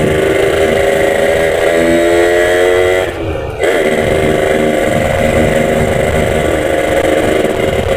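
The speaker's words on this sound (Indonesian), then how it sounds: "Kalau bawa motor ini bawaannya nggak bisa pelan guys" A Yamaha RX-King motorcycle engine drones loudly throughout, its pitch rising as it accelerates through the gears, with a brief dip in the middle as it shifts.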